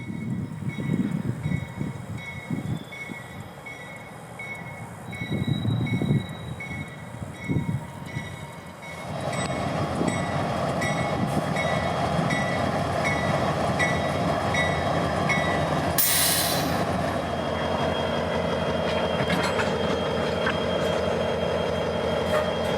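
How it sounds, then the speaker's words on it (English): M441, a Waycross-to-Tampa manifest freight led by an ES40DC locomotive, rolls into a rail yard on a restricting signal, a steady loud rumble of wagons with clanking, rail clicks and a brief high wheel squeal, no voices. "One of the trains lined ahead would be M441, Waycross to Tampa manifest freight, entering the yard with a restricting signal and an ES40 DC leader"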